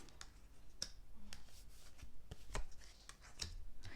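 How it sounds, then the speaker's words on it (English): Tarot cards being shuffled by hand at close range, a soft papery rustle broken by several sharp clicking snaps, with no talking. "I'm going to shuffle and see if there's one more thing that wants to come out for you."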